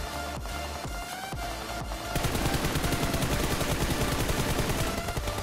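Rapid automatic gunfire in PUBG, a few scattered shots at first, then a dense, sustained burst of rattling fire, loud and close.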